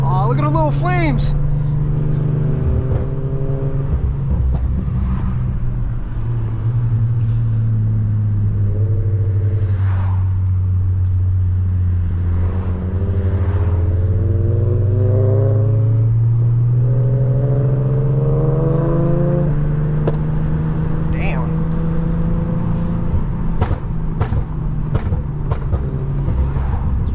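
A 400 hp Infiniti G37 engine accelerates while driving, a loud steady low drone with rising and falling pitch sweeps as it revs through gears, up close and continuous throughout.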